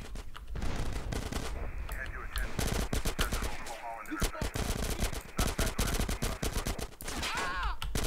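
Rapid automatic gunfire in GTA San Andreas, dense bursts of loud shots rattling almost continuously, with brief pauses and voices heard between the volleys.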